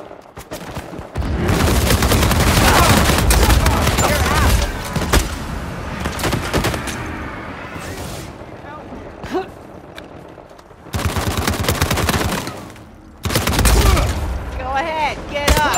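Bursts of gunfire in Uncharted 4 online multiplayer, loud and dense in several separate stretches with quieter gaps between them, and voices talking faintly in the background.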